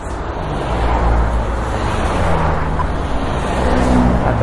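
Busy road traffic with cars streaming past, a steady loud roar of engines and tyres with no pauses, close to the listener and with no voices.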